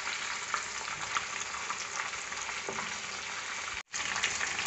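Pieces of chicken fry in a pan on a gas stove, giving a steady, dense, close sizzle with faint crackles, broken by a sudden brief cut near the end.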